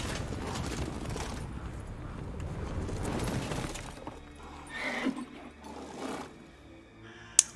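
A horse in the video game The Witcher 3 snorts and whinnies amid a dense rumbling wash of game noise, its calls rising and fading before a sharp click at the end.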